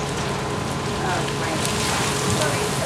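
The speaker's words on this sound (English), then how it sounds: "As soon as the rain effect is ready, we'll begin the sequence." Steady broadband hiss of a simulated rainstorm from water nozzles on a theme-park backlot set, continuous and close, with a dense patter throughout and no pauses.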